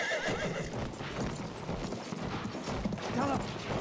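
A horse in Battlefield 1 gallops with quick, continuous hoof clip-clops and lets out a couple of neighs, close and busy amid battlefield noise.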